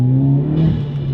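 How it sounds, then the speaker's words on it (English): The Golf R turbo engine in a VW Polo GTI revs up in a short, loud burst, a strong, steady drone rising in pitch. "Sounds and the pops and the flames that this car makes are actually unbelievable."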